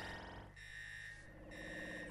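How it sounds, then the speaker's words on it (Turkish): A strange alien alarm sounds in the video game Everybody's Gone to the Rapture, a continuous harsh buzzing electronic drone with pulsing overtones that wavers slightly in tone but never stops. "Ve garip uzaylı alarma geçti."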